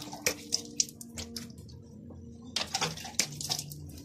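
Clean water splashes as a face is washed, with a series of quick wet slaps and drips in two bursts separated by a short quiet pause, close and fairly soft.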